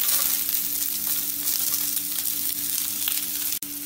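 Onion sizzles steadily in hot oil with cumin seeds and cinnamon while being sautéed for Kumbakonam kadappa, a continuous bright frying hiss with faint stirring, close and fairly loud.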